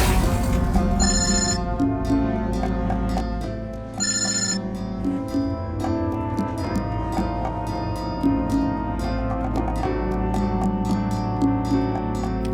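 A telephone bell rings in repeated loud bursts with short pauses between them, carrying on steadily with no voices over it.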